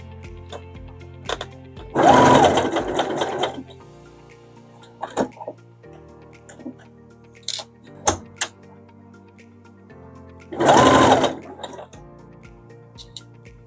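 A sewing machine stitching box pleats in fabric runs in two short whirring bursts, close by, with quiet handling clicks and rustles in between.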